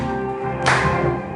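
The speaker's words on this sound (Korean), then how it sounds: "이번에는 우리 박수 치면서 한번 해볼까요?" Children at a church youth worship service clap along with a sung praise song; music plays alone at first, then a burst of clapping joins it partway through and continues over the singing.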